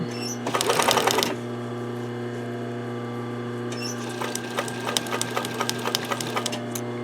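A sewing machine runs a long stitch down the middle of tape in short bursts, starting with a loud rapid clatter and then continuing as lighter, quicker ticking stitches close by over a steady motor hum.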